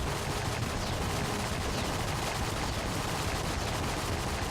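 Rapid video-game gunfire in Enter the Gungeon, piercing bullets fired continuously, a dense steady barrage over a busy game soundtrack with no talk.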